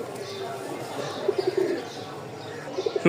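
Rajshahi giribaz pigeon cooing close by, a few short soft throaty coos in two small bursts over a low background murmur.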